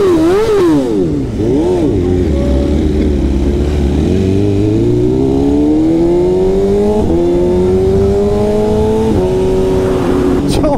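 A BMW M1000RR superbike engine revs hard and close, its pitch sweeping up and down through repeated throttle blips before holding a high, sustained whine, loud throughout.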